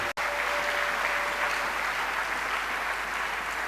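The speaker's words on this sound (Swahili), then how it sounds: "Tumpikie Yesu makofi" A church congregation claps together in a dense, sustained burst of applause that fills the room evenly from start to finish, with no voices above it.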